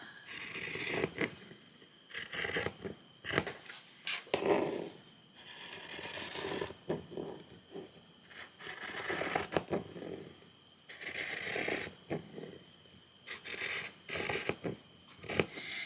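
Scissors cutting through fabric for a softcover junk journal cover, heard up close as repeated rasping snips in irregular bursts separated by short pauses, quiet and with no talking.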